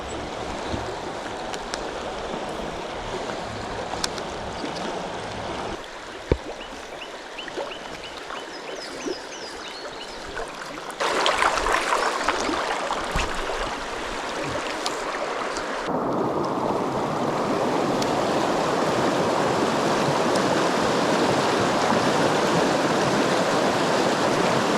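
A river rushes steadily beside a quiet morning campsite, its broad watery hiss continuous and close, swelling louder partway through as the flow noise fills in.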